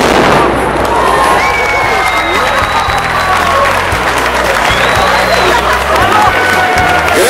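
A firework bomb explodes in a town square during an outdoor Italian festival, a loud blast followed by crackling bursts and pops mixed with sustained crowd applause and cheering throughout.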